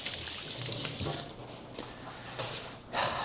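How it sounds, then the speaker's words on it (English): Running tap water splashes steadily over hands at a kitchen sink, a continuous broad hiss with small surges and splatters, close and moderately loud, with no talking. "The autistic hand washing."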